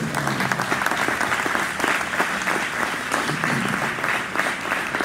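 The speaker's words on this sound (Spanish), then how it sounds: "¿Por qué no le da un fuerte aplauso al Señor?" A church congregation claps steadily and densely for several seconds, a full room of applause with no other sound standing out.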